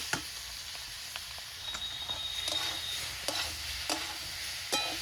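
Boiled taro greens go into a hot pan for a prawn-and-taro-greens dish, giving a steady sizzle with scattered sharp clicks and scrapes from stirring, close and fairly quiet, with no talking.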